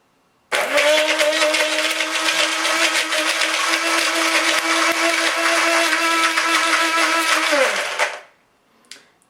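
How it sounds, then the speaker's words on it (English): A kitchen blender blending chocolate and milk starts abruptly and runs at a steady high whir for over seven seconds, then winds down, followed by a brief clatter. "let's blend it and see if it goes well together in the blender as well"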